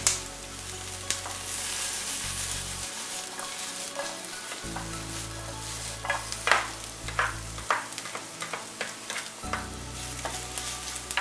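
Onion and garlic fry in a little oil in a pan, a close crackling sizzle with repeated scraping stirs and sharp pops over a low background hum.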